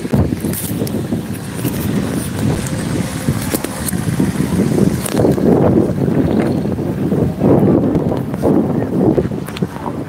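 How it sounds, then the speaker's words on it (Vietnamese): Strong night wind at an outdoor temple festival in Tây Ninh buffets the microphone, giving a loud, continuous low rumble with gusty swells throughout and no talk. "giờ này gió mạnh quá"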